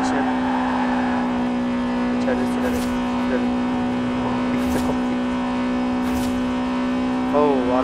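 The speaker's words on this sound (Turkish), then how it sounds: "Araba bas bas bağırıyor lan" A 2007 Honda Civic Type-R engine in the Forza Horizon 4 racing game holds a steady, droning hum with slight swells in pitch, while someone talks over it.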